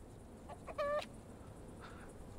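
A farm chicken in the survival game Mr Prepper, Animal Farm add-on, gives a single short cluck near the one-second mark, faint against a low steady background hum.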